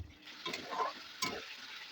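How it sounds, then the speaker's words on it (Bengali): Oil sizzling as salt, turmeric, chili powder and cumin-coriander powder are sautéed in a pan, with a soft steady hiss and a couple of scraping stirs, close and quiet without voices. "দিয়ে ভালোভাবে মশলাটা এবার কষিয়ে নেব যতক্ষণ না মশলা থেকে তেল ছাড়ে"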